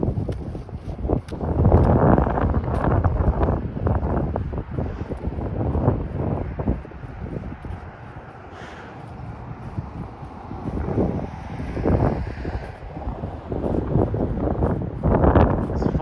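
Strong gusts of wind batter the microphone during an outdoor walk along Belfield Road in Etobicoke, Toronto, producing loud, uneven low rumbling that rises and falls throughout.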